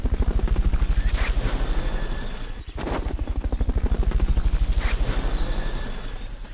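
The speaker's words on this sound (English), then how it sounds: "Fulton recovery helicopter is complete." A helicopter's rotor chops steadily and loudly for several seconds in the PS5 video game Metal Gear Solid: Peace Walker, a heavy rhythmic thumping over a constant roar with no voices.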